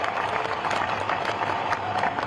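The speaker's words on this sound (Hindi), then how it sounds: "एक बार जोरदार ताली आपकी बजनी चाहिए" Audience clapping at a political rally speech in India, a dense, steady patter of many hands held at a constant level for the whole stretch, with a faint crowd murmur underneath.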